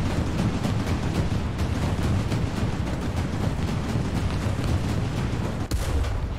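In the War Thunder video game, a CA Lorraine self-propelled gun fires amid constant rumbling battle noise, with dense repeated firing throughout and one sharp, distinct blast near the end.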